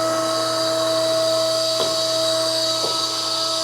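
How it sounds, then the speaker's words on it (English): A mandrel tube bending machine retracting its clamping die while making Corvette frame rails, a steady whining hydraulic drone with constant tones and two brief clunks partway through. "Retract our pressure die. Retract our clamping die."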